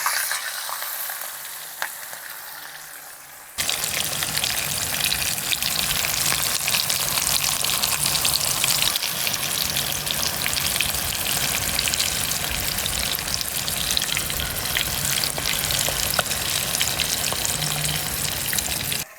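Small pieces of Singi shrimp frying in oil in a pan, Jaffna style, while being stirred: a quiet start, then a loud, dense, steady sizzle and crackle that bursts in after a few seconds and continues without talk.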